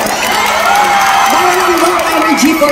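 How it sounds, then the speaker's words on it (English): Fan meeting crowd in Manila clapping and cheering loudly, with shouts and whoops over continuous applause while a voice also calls out. "Oh, yes, clap, clap, clap, louder."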